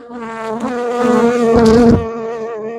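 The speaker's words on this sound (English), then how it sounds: "Oh my God, there's a lot of bee right here." Honey bees swarm thickly around an open hive during a fall inspection, making a dense, continuous buzz up close that swells louder midway and stays steady to the end.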